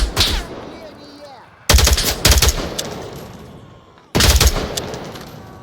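M16A4 rifle fire in the VR game Onward: three loud, close bursts of rapid shots, each cut off abruptly, with a voice briefly audible in the quieter gap after the first burst.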